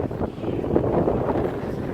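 A large airliner lands near LAX with its engines in reverse thrust, a steady broad roar under wind buffeting the microphone, with no clear peaks.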